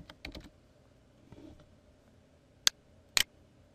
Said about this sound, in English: we type here the word exit